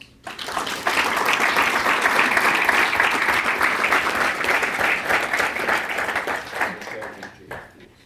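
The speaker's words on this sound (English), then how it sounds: "they deserve a round of applause" An audience at a high school basketball banquet gives sustained applause, dense and loud for several seconds before tapering off near the end.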